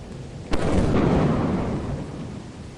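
A thunderstorm in the video game Lethal Company breaks with a sudden loud thunder crack, then rolls into a deep rumble that slowly fades over the next two seconds.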